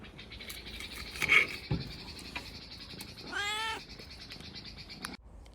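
A small, hungry-sounding cat meows outdoors in a garden, giving one drawn-out, rising-and-falling meow at moderate loudness over quiet background noise, preceded by a few brief knocks.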